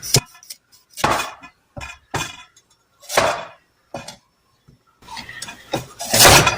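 A knife trims the ends off carrots on a board: a string of irregular, close chops and knocks, some with a faint clink, spaced unevenly and thickening into a busier burst at the end.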